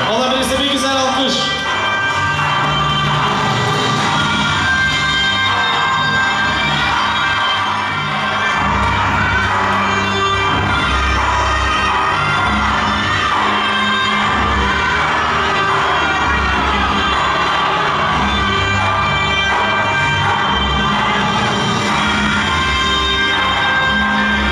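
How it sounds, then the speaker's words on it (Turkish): A crowd cheering and shouting for a father and daughter dancing, a sustained loud roar of voices with whoops that carries on for over twenty seconds, with music and talk mixed in. "Olabilirse bir güzel alkış."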